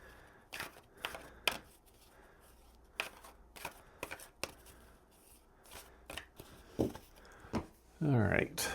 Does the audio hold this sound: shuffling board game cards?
yes